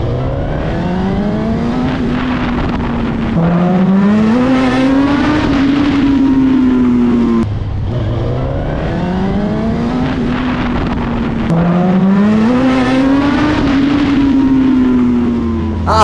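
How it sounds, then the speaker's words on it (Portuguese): A Suzuki SRAD 1000 motorcycle with its open exhaust and then its original exhaust, loud and close, revving repeatedly in cycles, each rise climbing in pitch and then falling back to idle. "Eu vou só agora colocar um barulho do escapamento aberto e do escapamento original, mais ou menos ali no mesmo take"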